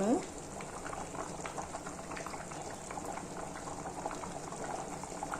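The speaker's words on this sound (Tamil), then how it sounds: "2 டீஸ்பூன் அளவுக்கு நெய் ஊற்ற போகிறோம்." Close, steady bubbling and sizzling of a pot of boiling jeeraga samba rice for biryani continues throughout, with a brief splash of ghee poured in at the start.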